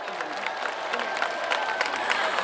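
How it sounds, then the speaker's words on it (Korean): Festival crowd at the Sapryang cultural festival in Yangsan applauds, a dense, fairly distant wash of clapping with scattered cheers. "전국에서 오신 우리 관광객 여러분 박수 한번 보내드리겠습니다"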